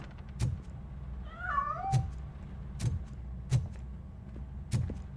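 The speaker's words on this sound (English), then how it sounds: "That cat must be hiding inside." A cat in RoboCop: Rogue City meows once, a short wavering call, as it escapes from a piano, with several sharp knocks and clatters spaced through the scene.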